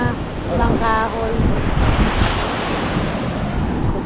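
Surf washing onto a shore by a sea where boats are moored, with steady wind buffeting the microphone, loud and continuous; a brief tonal squeal rises early on over the broadband roar.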